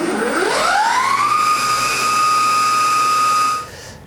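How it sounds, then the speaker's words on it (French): Zero SR/S electric motorcycle accelerating hard in sport mode, a loud rising electric whine that sweeps upward over about a second and then holds a steady high tone before cutting off sharply near the end. "Si on adopte ici le mode sport, on va avoir la pleine puissance, la moto va accélérer très fortement"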